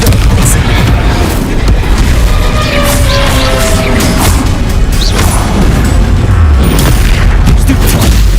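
Confringo explosive spell in Hogwarts Legacy, part of a rapid spell-casting combat sequence: a continuous loud barrage of booming blasts and crashes with dense, heavy low rumble throughout.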